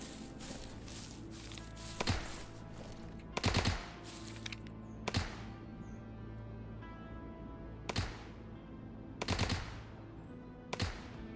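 Gunfire in the zombie survival video game Dreadzone, with scattered bursts and single shots at irregular intervals, some in quick doubles, fairly distant and moderately loud over a steady ambient game hum.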